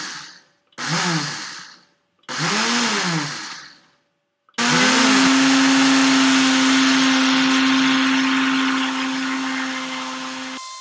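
A food processor grinds almonds into almond butter, starting with a few short whirring bursts separated by pauses, then running continuously in a loud steady roar with a constant motor whine.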